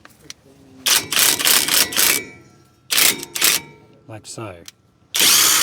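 Power tool driving bolts into the bolt holes of a brake rotor on a Pajero Sport, in several loud, close bursts of whirring with pauses between, a person speaking briefly amid the runs.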